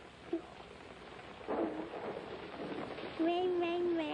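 A rainy day on the Sesame Street TV show brings a steady hiss of rain and low rumbles of thunder, with voices talking and a sung tone rising near the end.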